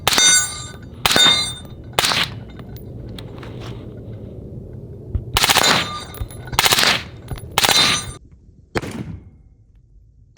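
Gunfire striking a steel target at a shooting range: sharp metallic clangs ring out in uneven bursts, some single and some in quick succession, with a low rumble in the gaps and no talking.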